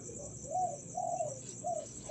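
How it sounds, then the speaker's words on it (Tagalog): Zebra finches and other small birds call faintly at close range with a few short, rising nasal notes in a loose rhythm over a steady high-pitched background hiss. "Tapos dito yung mga ibang ibon natin."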